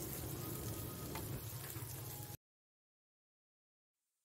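Masala frying in a pan for red lobia chaat gives a dense, close sizzle for about two seconds before cutting to silence, with a faint burst returning at the very end.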